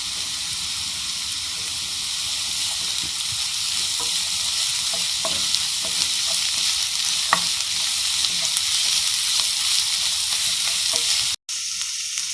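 Ginger garlic paste frying with softened onions in a pan, a loud, steady hissing sizzle that runs unbroken with faint scattered stirring clicks and a sudden short cut near the end, no one speaking.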